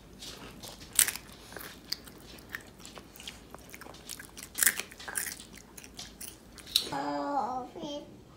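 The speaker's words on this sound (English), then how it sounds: "Having some potato chips." Crunchy bites and chewing of potato chips as a pre-dinner snack, with several sharp crunches spaced irregularly up close, and a voice briefly heard near the end.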